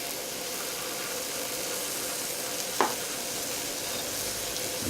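Chicken legs, nearly as big as turkey legs, fry in their own fat in a pan. The steady sizzle hisses evenly throughout and is broken once by a brief clink.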